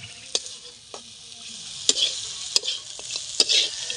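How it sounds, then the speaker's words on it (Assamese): Food frying and being stirred in oil in a pan, with a low steady sizzle broken by several sharp scraping strokes of a spoon against the metal at an irregular pace, close and clear with no talking. "এইটো মানে তেতিয়ালৈ ভাজিব লাগিব"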